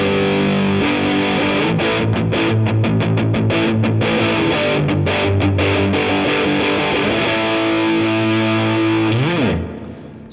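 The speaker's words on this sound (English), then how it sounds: "you start getting some really nice, like, distortion-esque sounds rather than just some fuzz" Electric guitar through a Wampler Velvet Fuzz pedal plays loud, heavily distorted chords and riffs, sustaining steadily before cutting off near the end.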